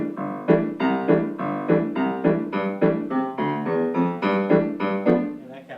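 Stride piano with a boom-chuck left hand: low bass notes alternate with mid-register chords on the back beat in a steady bouncing rhythm, played solo and close.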